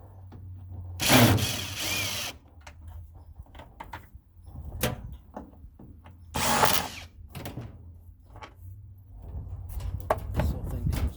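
Power drill backing screws out of a small furnace, two loud whirring bursts a few seconds apart, with clanking of metal parts and handling noises between them.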